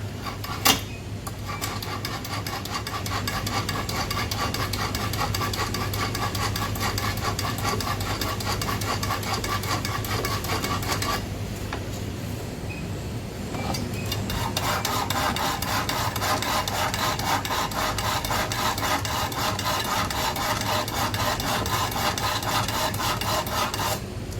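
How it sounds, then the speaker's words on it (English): A knife is drawn repeatedly through a Chantry sharpener, giving steady, close metallic rasping strokes that run continuously with a brief pause partway through, alone without speech. "So, first job is to sharpen the knife."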